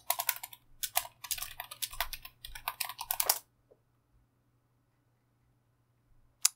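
Rapid typing on a computer keyboard to enter a command: a quick flurry of close key clicks for about three seconds, then silence with one last tap at the end.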